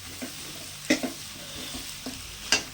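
Onions sautéing in oil in a pan for pasta give a soft, steady sizzle, broken by a few sharp clinks and scrapes of stirring, close and quiet with no voices.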